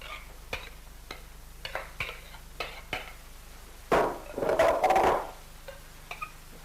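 Haggis mixture of suet, oatmeal, salt, pepper, nutmeg and cayenne being stirred in a bowl: a series of sharp spoon taps at steady intervals, then a louder burst of squelchy mixing, close-up, no speech.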